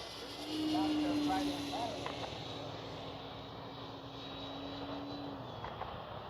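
A Flightline F4U Corsair RC model airplane makes a low pass, its engine a steady droning whine that swells loudest early, then holds and slowly shifts pitch as it goes by, with a voice speaking briefly nearby.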